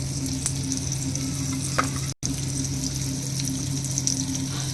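Masala-coated bangda mackerel frying in oil on a tawa, giving a steady, close sizzle that continues throughout with a faint hum beneath and no talking.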